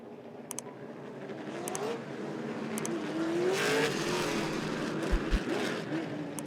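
Late model race cars accelerating off the green flag at Rockford Speedway, engines swelling and rising in pitch in the distance, building louder toward the middle with a few sharp bangs near the end.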